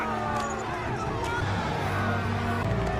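A crowd cheers and shouts in a Game of Thrones scene, a steady, moderately distant roar of many voices with a low rumble beneath.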